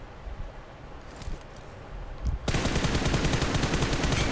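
An M4 rifle in BGMI / PUBG Mobile gameplay fires a sustained automatic burst, loud rapid shots running continuously after a quieter stretch of faint background noise.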